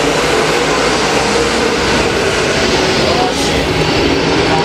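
Race car engines roaring at speed during a weekly dirt-track A-main race, a loud, continuous broadband roar filling the whole stretch, with race commentary mixed in.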